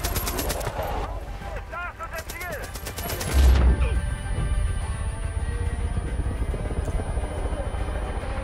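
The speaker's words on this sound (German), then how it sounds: "Da ist ein Heli über uns" In the video game Far Cry 5, a helicopter passes overhead amid rapid bursts of machine-gun fire, with rattling volleys first and then a loud, thudding rotor drone continuing to the end, and game sounds layered around it.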